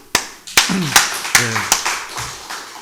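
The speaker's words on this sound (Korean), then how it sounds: "우리 선교사님에게 박수." Scattered hand claps from a congregation during a Sunday church service, about six separate sharp claps spaced apart, with someone speaking between them.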